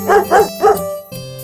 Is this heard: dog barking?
yes